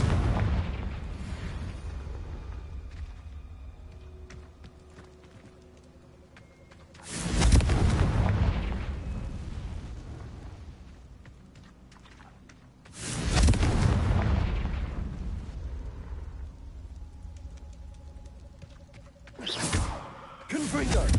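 Confringo spell explosions in Hogwarts Legacy erupt three times as heavy booming blasts about six seconds apart, each tailing off into rumbling debris, with softer game ambience and scattered clicks in between.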